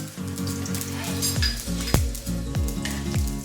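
Mustard and cumin seeds sizzle loudly in hot oil, a steady crackling fry with a few sharp pops and metallic clinks of a utensil against the pan.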